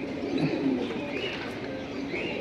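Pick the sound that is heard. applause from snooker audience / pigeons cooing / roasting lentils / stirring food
pigeons cooing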